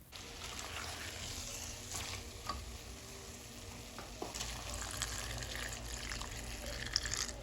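Water poured into a pot of potatoes with tomato paste for a coconut tomato stew, a steady hissing, sizzling rush with light clinks, close and moderately quiet, with no talking.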